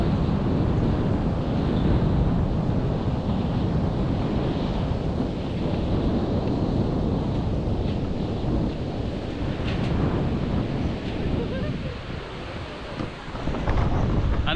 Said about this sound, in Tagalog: Oo, tamo. Mahangin.